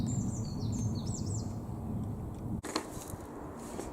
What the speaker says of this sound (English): I'm just watching loads of pigeons down that field.